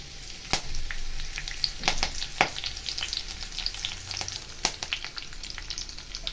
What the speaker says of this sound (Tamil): இப்போ சோம்பு பொரியும் போதே கருவேப்பிலை போட்டுக்கலாம்.